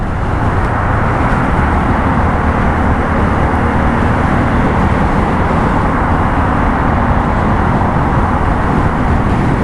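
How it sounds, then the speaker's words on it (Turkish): Honda CL250 motorcycle engine running with throttle opened gently during break-in, a steady broad roar blended with wind rush from riding, constant and loud throughout without speech. "Azıcık gaz açalım."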